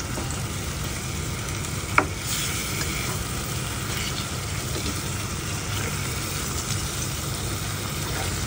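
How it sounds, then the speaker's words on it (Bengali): Ash gourd pieces sauté in a hot pan with a steady, even sizzle and faint stirring scrapes. There is one small knock partway through, heard up close at a low, constant level with no talk. "তারপরে সবজি কষাবো"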